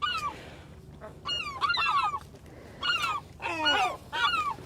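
Herring gulls call at their nesting site: several loud, harsh yelping and laughing cries arrive in bursts close by, with short pauses between the calls.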